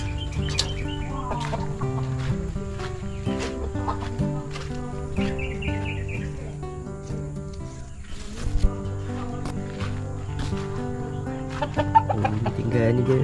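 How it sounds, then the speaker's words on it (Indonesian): Village chickens cluck steadily and close by, the busy repeated calls layered with faint insect buzz and a few brief voices. "Ayam masih ada."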